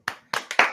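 Three sharp hand claps on a podcast, spaced irregularly and close to the mic, each a crisp broadband burst with a short decay and nothing else around them.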